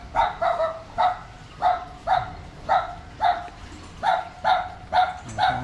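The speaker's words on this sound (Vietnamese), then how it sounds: "Con chó." A dog barks repeatedly along a rural embankment road in Bình Thắng, Bến Tre, about a dozen evenly spaced sharp barks at close range with no talking.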